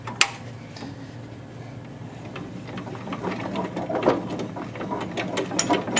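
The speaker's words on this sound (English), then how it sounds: "I'm going to have to lower the drill press again." Mechanical ratcheting and clicking of a drill press being cranked lower, close and uneven, with a sharp knock at the start.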